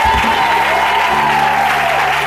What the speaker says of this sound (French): Est-ce qu'on peut acclamer très fort pour ça?